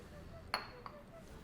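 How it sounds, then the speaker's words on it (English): A drinking glass clinks sharply as it is grabbed at a restaurant bar: one bright clink followed by a softer second tap, both brief, over a quiet room hum. "So give me 1 second here, I'll grab a glass."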